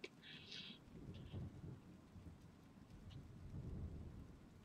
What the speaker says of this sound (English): There's actually a sound like a storm sound effects in the background.